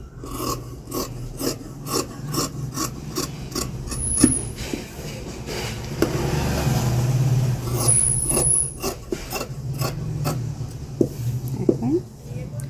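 Scissors cutting blouse fabric for sewing, a dry rasping snip repeated in a steady series of short strokes with a constant low hum beneath and occasional faint voice.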